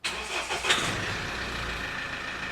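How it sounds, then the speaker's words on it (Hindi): A Mahindra Scorpio pickup, running with its engine cover off after a power-loss repair, cranks and catches, then settles into a steady, fairly loud idle close by with no talking. "लो जी स्टार्ट हो गई गाड़ी।"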